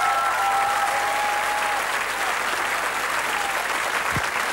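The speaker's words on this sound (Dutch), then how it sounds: "Een applaus voor Kai." Loud, sustained audience applause at a Dutch children's choir anniversary show, a dense, even roar of many hands clapping that carries on steadily throughout, with a faint tone audible early on and no voices.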